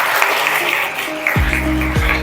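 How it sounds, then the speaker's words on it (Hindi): An audience claps at a speech event led by a school principal, a full burst of applause at first that thins as humming tones and a voice rise over it. "तो अभी आपकी तालियां रुकनी नहीं चाहिए"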